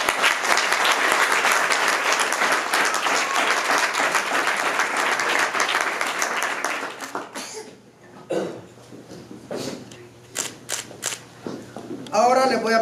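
Wedding guests break into loud, dense applause right after the vows, sustained for several seconds before tapering into scattered claps and murmurs, with a voice returning near the end.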